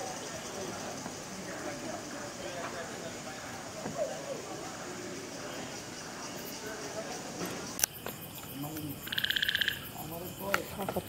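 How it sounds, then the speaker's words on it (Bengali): Frogs croak in water on a rainy night at a resort in Rajabari bazar, Gazipur, with crickets chirping alongside; a dense, steady chorus of overlapping calls fills the background, with a few louder nearby calls and insect trills near the end. "এই রাতে ব্যাঙের ডাক পানির মধ্যে, আর ঝিঝি পোকার ডাক।"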